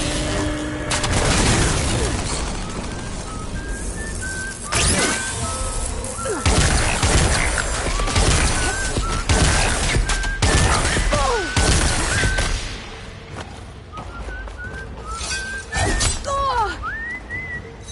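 A Horizon Forbidden West machine opens fire in a loud, sustained barrage of booms, crashes and whistling projectiles, with heavy impacts repeating for several seconds before easing into quieter whines and scattered hits.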